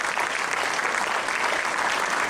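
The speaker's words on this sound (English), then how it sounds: "please give him a big round of applause" An audience in a lecture hall breaks into steady, dense applause that fills the whole moment, clapping evenly without pause.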